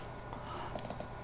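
Quick, light clicks of fingers typing on a computer keyboard, a short close burst of keystrokes with a few sharper taps near the end.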